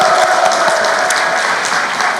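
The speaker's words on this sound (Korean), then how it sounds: "영광의 박수 올리겠습니다." A church congregation at a New Year's Eve midnight worship service claps together in sustained, dense applause, loud and steady throughout with no pauses, filling the sanctuary with a broad wash of many hands.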